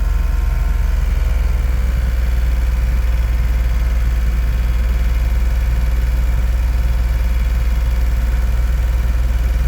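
A 2012 Smart fortwo's small 3-cylinder engine idles steadily during a coolant bleed, giving a loud, even, low rumble with a constant vibrating hum and no revving.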